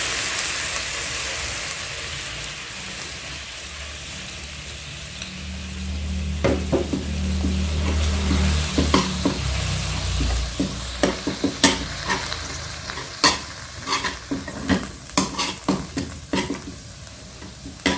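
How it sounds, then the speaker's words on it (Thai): Chili paste stir-fried in a wok for a Thai catfish curry, a steady low sizzle that swells midway, with repeated sharp metal scrapes and clanks from the spatula growing busier toward the end; no talk. "ผัดพริกก่อนพี่น้องผัดพริกมาผัดให้มันหอม"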